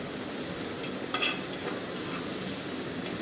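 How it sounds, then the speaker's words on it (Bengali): Spices and ginger-garlic paste fry over low heat in a pan for chicken rezala, a close, steady sizzle with a soft stir scraping through it. "এই মশলাগুলো বাজার সময় চুলার আঁচটা লোতে রাখবেন রেখে আস্তে আস্তে মশলাগুলো বাজবেন"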